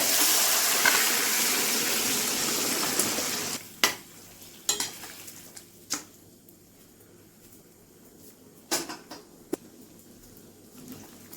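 Chana dal tipped into a hot pan of sizzling oil and a little water for a jackfruit chana dal: a loud, steady hiss that drops away, then scattered sharp clacks of a spoon stirring against the pan, close by.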